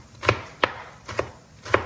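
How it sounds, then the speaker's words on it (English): A knife chops vegetables very thinly on a board for soba spring rolls, four crisp, evenly spaced cuts ringing out close and clear with no voices. "Chop it as thin as you can, so later when you're wrapping the spring roll, it will be softer to do that."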